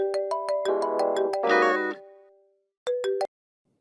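A mobile phone ringtone for an incoming call plays a bright electronic melody of repeated tones, pauses, then briefly rings again, heard alone with no talk.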